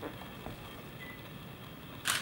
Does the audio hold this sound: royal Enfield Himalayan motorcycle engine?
no